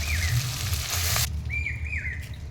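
Potatoes frying together with shrimp and spices in a pan, a close steady sizzle with occasional stirring, alongside a few faint chirping bird calls in the background.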